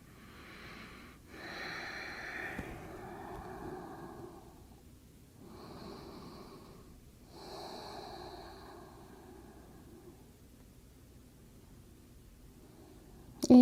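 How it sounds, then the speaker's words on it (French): Slow, deep breaths taken in yoga child's pose, several long audible inhales and exhales spaced apart, soft and close in a quiet room. "On prend quelques respirations profondes dans cette posture de l'enfant Balasana."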